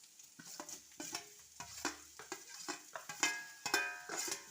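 Curry leaves and onions sizzle softly in a pan while a spoon stirs them in repeated scraping strokes, quiet and close with no talking.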